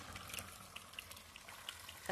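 Water runs steadily into an outdoor water tank in a home courtyard, a continuous close splashing gush that fills the short moment with a few faint clinks on top.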